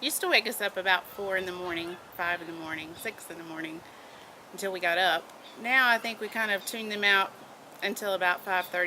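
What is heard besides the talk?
No everyday noises stand out.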